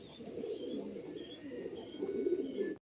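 A pair of Giribaz pigeons, a male and a female, coo softly and continuously in low throaty rolls close by, with faint higher chirps from other birds in the background.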